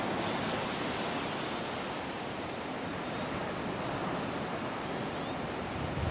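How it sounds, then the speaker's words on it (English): Sand pours from a silver jug into a glass crystal jar, making a continuous, even grainy hiss that runs steadily for about six seconds at a quiet level. "pour it one after the other into the glass crystal jar"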